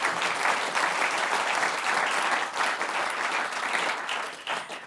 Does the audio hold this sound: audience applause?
yes